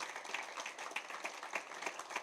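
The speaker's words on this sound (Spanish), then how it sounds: "Den un aplauso a Jesús" Congregation applause at a church seminar, steady and moderately loud with rhythmic clapping accents through the short burst.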